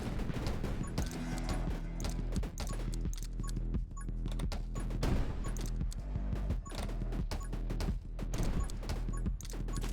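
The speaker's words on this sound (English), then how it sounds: "There's so many explosions, secondary explosions everywhere." Dense game explosions from 20 Minutes Till Dawn, with rapid overlapping bursts, crashes and thuds over a steady music bed, and constant layered blasts throughout.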